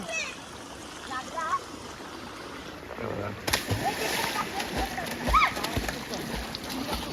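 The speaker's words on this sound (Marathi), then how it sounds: "बघा थोडा वरतून उडी टाकले" A boy jumps from a height into a village pond, making a sudden splash partway through, followed by sloshing water over outdoor background noise while voices call out.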